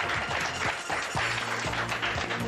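Steady applause from an audience at a record label launch greeting company executives, many hands clapping continuously at moderate loudness, with some background sound and faint voices mixed in.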